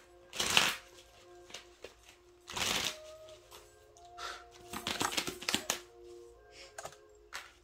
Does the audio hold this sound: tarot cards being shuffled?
yes